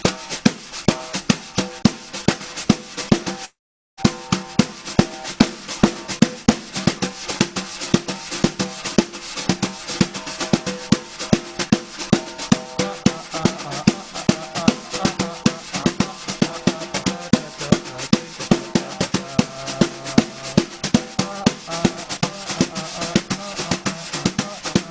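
Brushes swept and tapped on a snare drum in an up-tempo Brazilian groove, a steady dense stream of quick strokes with a constant swishing texture, close and fairly loud, with one brief gap near the start.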